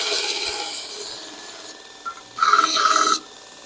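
A Harbor Freight Hercules bench-mounted belt grinder on a tool swing stand gives a steady abrasive whir that swells into a louder, harsher stretch of grinding near the end.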